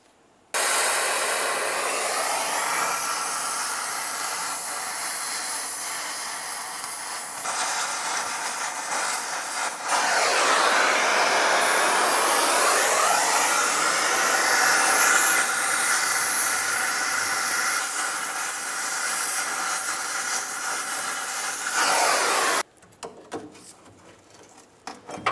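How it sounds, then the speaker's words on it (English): A cutting wheel or torch works through the frame bracket rivets of a leaf spring hanger on a 1994-2002 Dodge Ram 2500, making a loud continuous hiss that runs for over twenty seconds with shifting pitch, then cuts off abruptly. "You can either use a cutting wheel, or if you have some torches, go ahead and use those."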